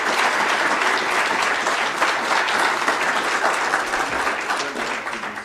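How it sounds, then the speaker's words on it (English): A hall audience at an annual memorial lecture gives a full, sustained round of applause that stays loud throughout and tapers slightly at the very end. "I think we should give a round of applause"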